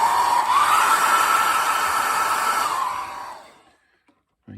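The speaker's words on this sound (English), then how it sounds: "Get a wee blast with the hairdryer." Hairdryer blowing hot air onto a 1/72 Bandai X-Wing model kit, a loud close whooshing roar that holds for about three seconds, then fades and cuts off, followed by near silence.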